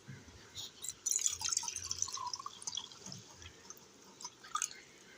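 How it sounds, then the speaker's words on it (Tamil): Water trickles and drips steadily while being poured for homemade lemon juice, a faint close splashing with brief louder bursts and no voices. "ரெண்டாவது கொஞ்சம் தண்ணி ஊற்றிக்கலாம் ஃப்ரெண்ட்ஸ்"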